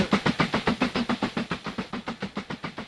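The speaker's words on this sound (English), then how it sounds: "that's an American train as well." An American Western-style steam locomotive in the Mashinky video game chugs steadily, its regular rapid exhaust puffs hissing at a constant pace with no voices over it.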